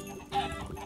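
Chicken clucking in Minecraft, a short burst of synthetic game clucks rising near the middle of a brief clip over low background noise.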